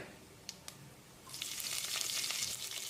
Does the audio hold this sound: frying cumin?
yes